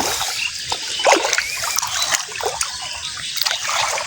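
Water splashing and trickling as a China duari fishing net is paid out from a boat, a steady wet sloshing with a few sharper splashes throughout.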